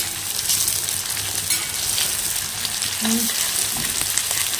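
Onions frying in a pan on a gas stove, stirred now and then, with a steady dense sizzle throughout and occasional scrapes against the pan.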